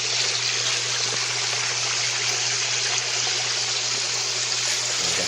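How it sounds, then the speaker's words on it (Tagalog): Water trickles and dribbles in a steady, continuous flow, close and fairly loud, with no talking over it. "Tulo."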